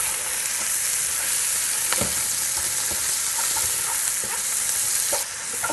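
Chopped Vidalia onion and garlic fry in bacon grease in a pot, giving a steady bright sizzle with a few sharp scrapes and knocks as the mixture is stirred.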